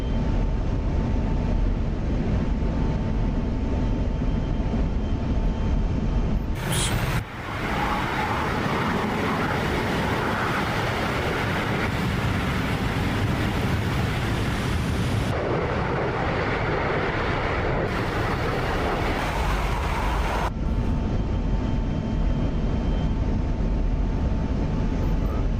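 An F-16 jet engine in a flight simulator game roars as a steady broadband rush with a faint whine, briefly cut and shifting in level partway through, with no talking.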